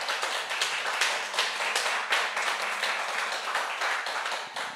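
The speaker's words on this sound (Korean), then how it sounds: "다시 한번 감사의 박수 한번 주시면 좋겠습니다" Sustained audience applause at a Korean church lecture series on biblical authority, a steady dense wash of many hands clapping close and continuous throughout, with no talking over it.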